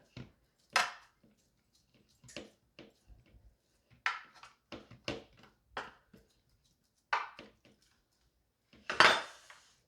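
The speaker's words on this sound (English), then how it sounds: "Flatten it out now with this little spatula I have here." A small spatula spreads and flattens Mississippi mud dessert in a pan, making sparse scraping and clinking taps against the dish with quiet pauses between strokes.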